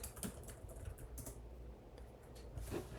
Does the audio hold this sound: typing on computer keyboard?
yes